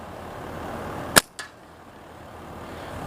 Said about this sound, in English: He seems to be shooting pretty good.